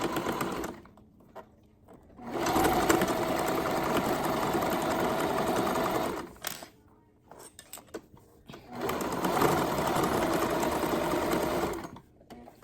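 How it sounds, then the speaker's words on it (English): A sewing machine stitching a seam down the side of fabric, running in two steady bursts of several seconds each with a short pause between, close and fairly loud, alone with no talk. "just sew straight down the side"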